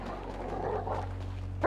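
Chop, a dog in the GTA V video game, gives a short, fairly faint bark or yip over low game background noise, with a louder burst at the very end.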